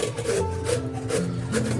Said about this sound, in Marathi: दुधी किसून घेऊया